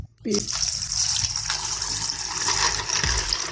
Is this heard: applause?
no